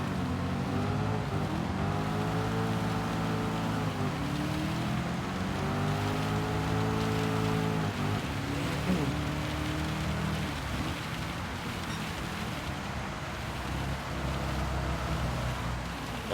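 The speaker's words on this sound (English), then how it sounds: "This is like fucking advanced rain" Heavy rain pours down in the Gran Turismo racing game, a constant loud wash of drops over a rising and falling engine hum, steady from start to finish.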